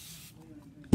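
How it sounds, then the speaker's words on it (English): A short hissing spray from a pump spray bottle onto a chalkboard sign at the start, followed by quiet background and a sudden thump at the end. "I'm gonna spray it again,"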